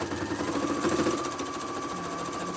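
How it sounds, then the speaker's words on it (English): A sewing machine runs steadily while stitching near an apron strap, a continuous close motor whir with a fine rapid needle chatter throughout. "So I'm making sure here that I'm not sewing any of that strap"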